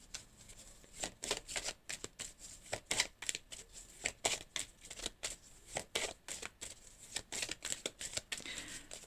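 A deck of tarot cards is shuffled and drawn, giving quick, crisp riffling bursts that repeat in an uneven rhythm throughout, close and fairly loud, with no talking.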